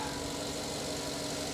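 A 5.3 liter V8 engine idling at an auto auction lot, a low, steady rumble with faint even vibration, continuous and fairly quiet.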